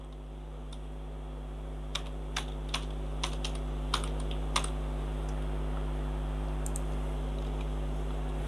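HTML code being typed on a computer keyboard, scattered single key clicks with pauses between them, close and fairly quiet over a steady low electrical hum.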